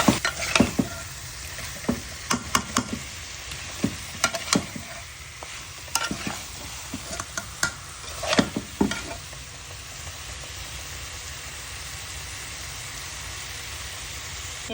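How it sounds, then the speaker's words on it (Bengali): Spice paste for a Bengali potato and snakehead fish curry fries and sizzles in a pan, with a handful of sharp stirring scrapes in the first nine seconds, then a steady quiet hiss. "ভালো করে কষা নেব।"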